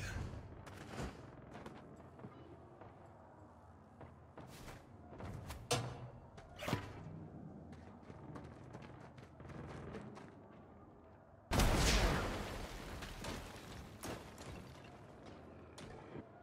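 A rocket launches and explodes in the game Saints Row, a sharp blast near the middle of the clip followed by a broad, roaring rumble after scattered thuds and mechanical clicks, with no talking.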